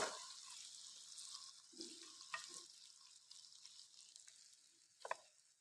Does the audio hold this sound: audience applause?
no